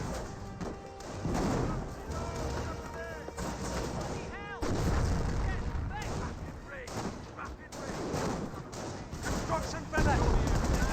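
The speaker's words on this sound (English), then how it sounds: "Lieutenant now receiving some rifle fire from the Grenadiers." Gunfire and artillery in a Company of Heroes battle against Grenadiers: dense rifle shots, heavy booming blasts and crashes roll on without a break, with speech running underneath.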